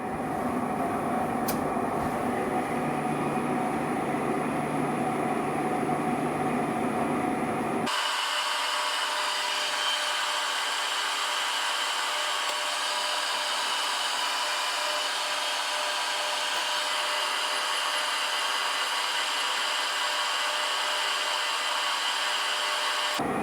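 A lathe cuts a thread on a valve spindle rod for a 7 1/4 inch steam locomotive, making a continuous machine whir that shifts to a brighter, thinner tone partway through and then runs on steadily.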